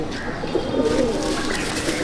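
A Madrasi pigeon coos softly at close range in a short, low, rolling call against a quiet background.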